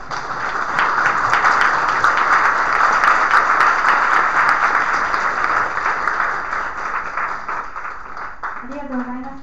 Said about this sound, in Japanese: 皆さん、ちょっと拍手を持って。